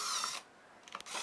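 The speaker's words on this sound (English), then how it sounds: "drill some holes through the fence itself so you can secure it with some screws" A power drill bores through a wooden fence on a shooting board, two short whirring bursts split by a near-silent pause with light knocks.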